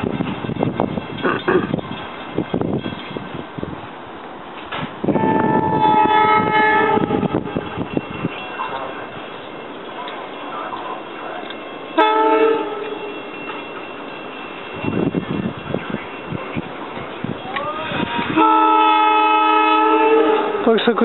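An R5 commuter train to Melbourne rolls into North Wales station, Pennsylvania, with several loud blasts of its horn, steady rumbling and clatter of railcars between them, fairly close by.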